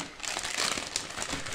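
Plastic packaging bag from an ICM Avia B-71 bomber model kit crinkles and crackles steadily as it is handled up close, with no talking.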